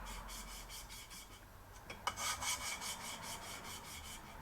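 A new valve lapping tool grinds against an engine valve seat with repeated rasping strokes, harsh and gritty at first and then briefly louder partway through, in a close, steady rhythm with no talking.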